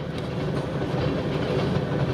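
A freight train rolls along a single-track rail line close by, its steady rumble and faint clickety-clack of wheels heard alone at a constant loud level.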